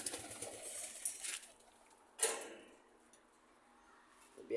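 Caged pigeons cooing softly in short, faint calls, with a sharper rustle or flap partway through and low background noise, no talking.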